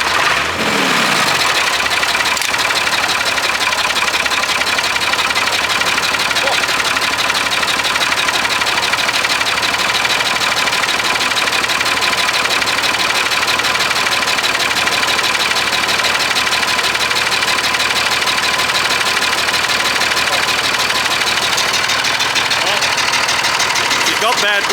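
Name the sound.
old Perkins diesel engine running after many years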